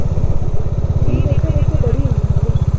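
A motorcycle engine thrums steadily and loudly with a fast regular pulse while riding the looping mountain road toward Baralacha Pass near Manali, continuous and close throughout the short stretch.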